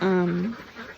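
Pet ducks on a homestead quack loudly and close, a single drawn-out nasal call that tails off into quieter rustling.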